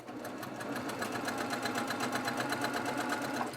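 A multi-needle embroidery sewing machine stitches a diagonal seam on a table topper, a steady, rapid mechanical chatter running continuously and evenly throughout, close and fairly loud.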